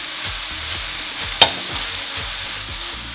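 Vegan fried rice with tofu stirred in a hot pan on high heat: a continuous close sizzle with rhythmic scraping strokes and one sharp clink of the utensil, no voices.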